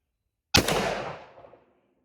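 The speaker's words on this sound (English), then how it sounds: "This next one is Hornady Lever Evolution" A single sharp gunshot from a .45 Colt firing Hornady Lever Evolution ammunition cracks out of silence, followed by a short decaying outdoor echo.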